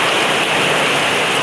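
Heavy summer rain pours down in a dense, steady hiss, loud and unbroken throughout with no voices.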